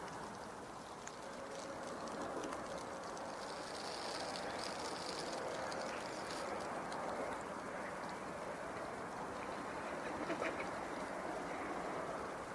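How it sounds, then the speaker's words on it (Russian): Ducks quacking on a lake at dawn, set against a steady wash of outdoor ambience with scattered bird calls, the quacks fairly distant and blended into the continuous background. "Утки проснулись, зашевелились. Крякают две чайки."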